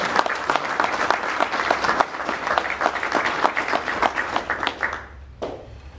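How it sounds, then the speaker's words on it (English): A scouting event audience gives a warm round of applause for the spouses, dense clapping from many hands that holds steady for about five seconds, then quickly dies away. "So a round of applause for all the spouses who helped us."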